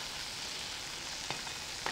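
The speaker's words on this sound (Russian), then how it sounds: "Обжариваем вторую сторону." Apple pancakes fry in a pan, a soft, steady sizzle with a couple of faint clicks or scrapes near the end, heard alone and quietly.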